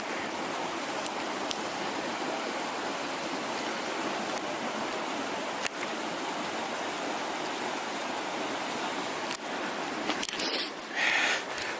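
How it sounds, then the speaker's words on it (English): A river on a hiking trail near Sandwich Dome rushes in a steady, loud, broadband wash of flowing water close by, continuous throughout, with a few faint clicks and a brief rustle near the end. "I was able to find a spot to cross the river"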